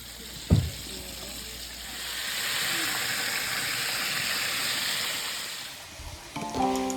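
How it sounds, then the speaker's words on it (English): Steady hissing sizzle of chicken legs frying in hot oil, continuous and fairly close, with a clunk at the start and a brief voice near the end. "Now that the chicken's frying"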